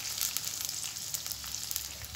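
Chopped garlic sizzles in hot oil in a home kitchen pan as the base for a chickpea curry, a steady bright crackle with no voices over it.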